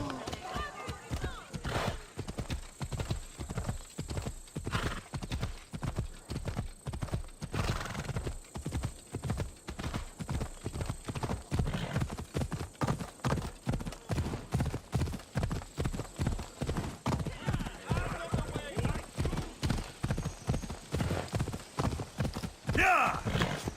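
Rhythmic clip-clop of a horse galloping under a rider in Assassin's Creed Odyssey, steady hoofbeats running close and continuous with a brief whinny near the end, over faint game ambience.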